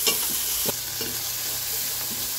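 Tomatoes with ginger-garlic paste, turmeric and salt frying in a pan for palak paneer give a loud, close sizzle broken by a few quick stirring scrapes.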